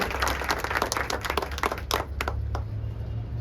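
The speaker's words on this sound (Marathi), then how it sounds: "मग युवकांच्या टाळ्या कशा असल्या पाहिजेत?" Audience applause at a youth day event, a dense, steady clapping from a crowd sustained for a few seconds at moderate loudness, with no talking over it.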